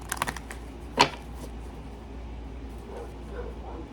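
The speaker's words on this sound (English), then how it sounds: "my dog is out there barking" A single sharp dog bark from outside, with a few faint yips just before it, heard against a quiet indoor room tone.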